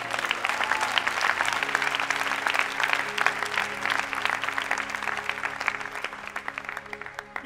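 A church congregation claps and cheers in praise, a dense, steady roar of applause that fills the room without a break.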